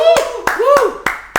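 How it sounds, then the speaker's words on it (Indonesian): About five crisp hand claps in a steady rhythm, roughly three per second, sounding close and fairly loud over a tonal voice-like sound, as a team named Eupodia is introduced. "Tepuk tangan."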